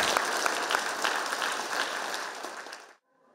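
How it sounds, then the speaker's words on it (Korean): A church congregation applauds together during an in-person worship service, a steady dense patter of many hands that carries on for about three seconds before stopping abruptly into near silence. "우리 다 같이 한번 스스로 자축하면서 감사의 박수를 하겠습니다."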